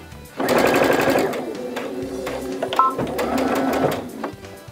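A sewing machine stitches a 3/8-inch lining seam on a zipper pouch. It runs in two steady, whirring bursts with a short slowdown between them, close and clear, with no talking.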